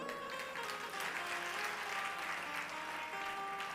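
An audience claps together during a Hindu devotional gathering, a soft, continuous patter of many hands heard from some distance, with faint tonal sounds mixed in.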